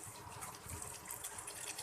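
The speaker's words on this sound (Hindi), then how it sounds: "थोड़ा सा इसमें पानी लगाऊंगी मैं" Water is added to a pan of vegetables with eggs and capsicum, a soft continuous splashing gush of liquid running steadily and fairly close for nearly two seconds, with no talk over it.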